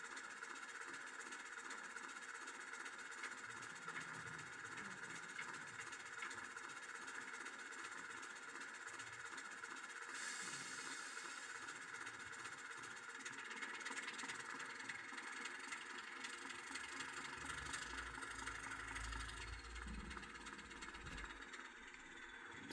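A Heljan BR blue Class model diesel locomotive with weathered finish and twin headlights, fitted with an upgraded speaker, plays its engine sound: a steady idling diesel drone with rising throttle, continuous and close.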